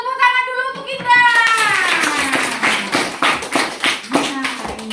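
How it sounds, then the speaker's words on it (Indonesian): A teacher's voice speaks, then a classroom of students breaks into clapping that continues steadily, with a voice and scattered taps mixed in. "Iya, tepuk tangan dulu untuk Indah."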